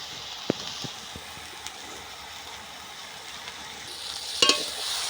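Fish coated in turmeric and salt frying in oil with onions, a faint low sizzle under sparse knocks of the stirring spoon, with a brief louder hiss near the end.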